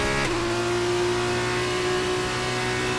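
An F2 race car engine in the video game F1 23 at the Abu Dhabi circuit holds a steady, high-revving whine with a sustained tonal drone that stays loud and constant throughout.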